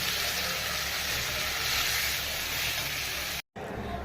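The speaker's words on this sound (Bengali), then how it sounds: "এবার আমি সেদ্ধ করা আলু আর ওলটা এর মধ্যে দিয়ে দেবো।" Boiled potatoes and elephant foot yam drop into a hot pan, giving a steady, loud sizzle and frying hiss that runs throughout, briefly cutting out near the end before resuming.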